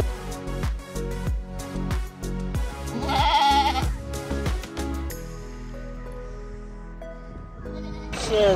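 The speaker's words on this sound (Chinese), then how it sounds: "山羊" Goats bleat repeatedly at close range in an outdoor spot, several loud calls in an uneven rhythm, then a quieter stretch with a soft hum.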